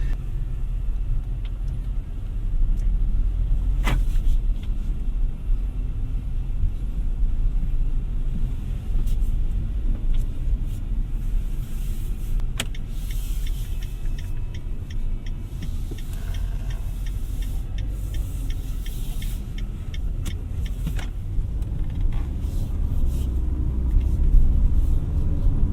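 A 2024 Mitsubishi Xforce with a CVT drives through city traffic, its steady low road and engine rumble filling the cabin without a break and with no talking.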